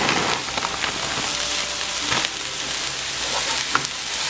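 Cauliflower rice stir fries in a hot pan, giving a steady close sizzle and crackle with occasional scraping stirs, no voices.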